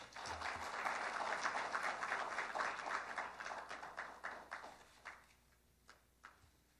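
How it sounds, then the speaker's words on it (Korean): Audience applause at a Korean software industry awards ceremony: dense clapping from a crowd that holds steady, then thins out into a few scattered, fading claps at the end. "축하의 박수를 부탁드립니다."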